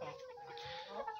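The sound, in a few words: chicken clucking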